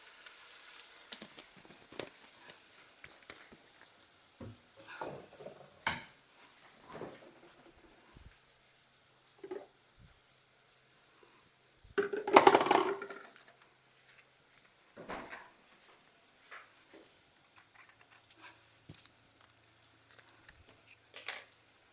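Deviled fish sauce with dark soy sauce and tomato sauce is stirred in a pan, giving a soft continuous sizzle with scattered scraping taps and one louder burst of clatter midway, without any talking.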